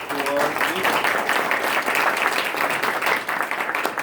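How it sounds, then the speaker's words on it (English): An audience applauds a presenter at a live mobile-app UX event, dense steady clapping filling the room throughout, with some voices mixed in. "Let's have a round of applause for"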